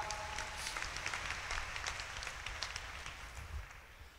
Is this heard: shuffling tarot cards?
no